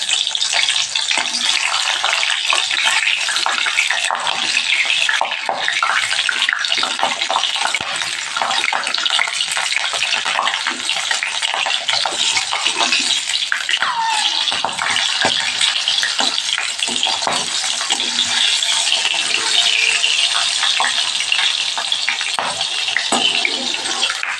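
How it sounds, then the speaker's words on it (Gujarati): Large chili peppers, each cut into four, frying in oil for a Navratri farari meal, giving a steady, loud, continuous bubbling sizzle throughout with faint occasional stirring and no talking. "એક મોટું મરચું છે એના ચાર ભાગ કરી લીધા એને તળી લઈશું"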